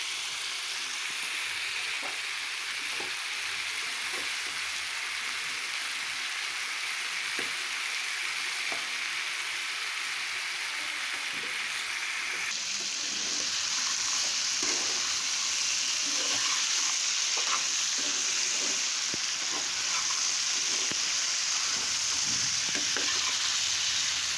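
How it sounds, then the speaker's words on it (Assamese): Chopped tomatoes frying in a pan while being stirred, a steady close sizzle that grows louder partway through, with soft scraping strokes of the spoon throughout and no talking. "এতিয়া কাটি থৈ দিয়া বিলাহীখিনি দি দিছোঁ মই। এতিয়া ভালদৰে লৰাই দিম।"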